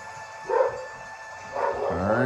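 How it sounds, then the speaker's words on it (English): A dog barks twice in a room, short and fairly close, the two barks about a second apart and followed by a whine, while a low steady hum runs underneath. "Dog freak out."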